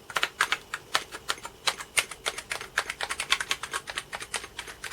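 Keys on an early Atari ST computer keyboard, one with a missing spring, pressed in quick irregular bursts of crisp plastic clicks, close and fairly loud with no talking.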